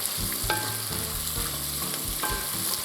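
Carrots, parsley root and celery sizzle loudly in a pot for Polish potato soup, with a steady frying hiss broken by several clunks and scrapes of stirring, close and without talk.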